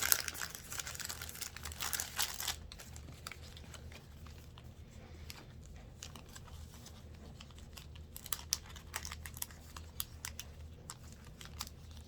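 Greeting cards slid into plastic card sleeves during packaging of handmade Christmas cards, giving close, soft crinkling and rustling with scattered sharp plastic crackles and taps at a low level.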